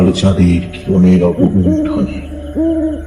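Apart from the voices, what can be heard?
owl hooting, sound effect in a narrated story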